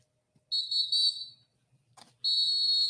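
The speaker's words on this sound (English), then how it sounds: "It's like an NBA whistle." Two sharp, loud referee whistle blasts like those heard at an NBA basketball game, the first about a second long and the second starting near the end, with quiet between them.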